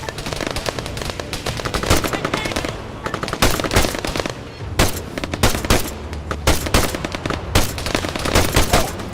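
Rapid bursts of automatic machine gun fire in the military shooter game Arma 3, loud and close, with dense overlapping gunshots and brief gaps, the barrage continuing across the whole stretch.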